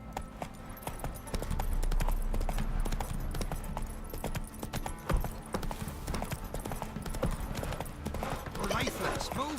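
Roach the horse from The Witcher 3 moves along in steady clip-clop hoofbeats that run throughout, close and fairly loud, with game voices talking over them.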